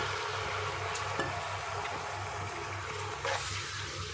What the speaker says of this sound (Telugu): ఇప్పుడు మనం వేసుకున్న టమాటా పేస్ట్ కూడా ఈ ఆయిల్లో బాగా ఫ్రై అవ్వాలి